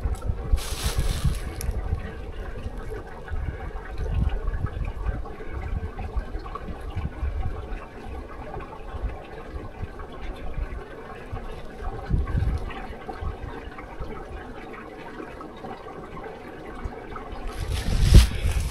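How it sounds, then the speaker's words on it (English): Soft, steady trickling and rushing water flowing through a tunnel under Route 322 on the Mid State Trail, with faint wind, quiet and continuous, briefly interrupted by louder handling noise at the start and end. "I don't know if you can hear the water running underneath us."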